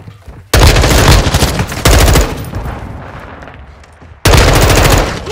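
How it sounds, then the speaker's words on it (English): Call of Duty: Modern Warfare gunfire comes in long, loud automatic bursts, three sustained volleys of rapid shots separated by brief lulls with a rumbling echo, and no talking. "I'm taking enemy fire!"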